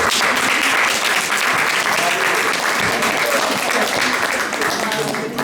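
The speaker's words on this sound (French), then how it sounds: "Et je voudrais remercier la mairie de Cotonou parce qu'ils sont là. Il faut les applaudir." An audience at a round-table on cultural policy in Benin applauds the Cotonou city hall, a loud, dense, unbroken wall of clapping lasting several seconds, with voices faintly audible beneath it.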